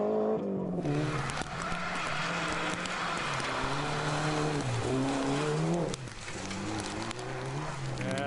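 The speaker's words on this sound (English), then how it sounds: "But that spin won't help the Loziers." A two-wheel-drive rally car in the Canadian Rally Championship spins on a gravel stage, its engine loud and close, revving and wailing throughout with a rough, scrabbling roar that dips briefly near the end.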